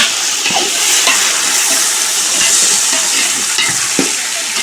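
Tomatoes, about 300 grams, stirred into hot chicken biryani masala in a pan: a steady loud sizzle with scraping stir strokes and soft clacks of the spoon, no talking.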